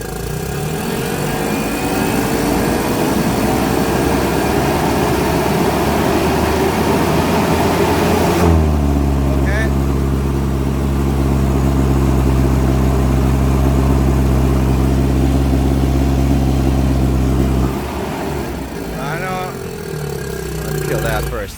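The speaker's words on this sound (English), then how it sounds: "it's falling flat on its face at a higher RPM" A Komatsu forklift engine with no power under load idles roughly, then revs to a steady, strained higher-RPM drone for several seconds before dropping back down.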